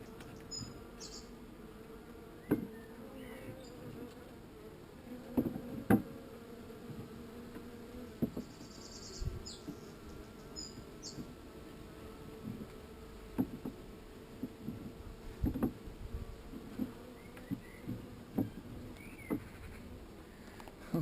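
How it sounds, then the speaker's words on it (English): A full honeybee colony buzzing inside an old fridge freezer, a low steady hum with scattered louder buzzes of individual bees passing close, no voices. "But look at the amount of bees over there."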